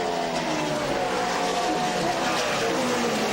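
NASCAR Craftsman trucks race on the Gateway oval, a loud, continuous, close engine roar with pitch sweeping as trucks pass at speed.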